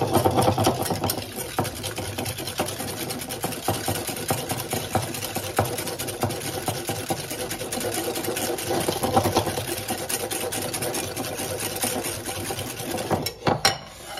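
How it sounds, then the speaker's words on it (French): Electric mixer beating 10 grams of sugar with egg yolks, a steady close motor whir with a rhythmic churning texture running throughout, with a slight change near the end. "Maintenant, on va mélanger les 10 grammes de sucre avec les jaunes d'œufs."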